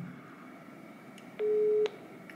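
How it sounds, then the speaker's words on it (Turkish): A Discord call ringing tone plays as a short electronic beep that rises clearly above a quiet room background, with faint clicks around it. "Discord'a gelsin diye şöyle ses de verdim, hemen çalıyor arkadaşlar."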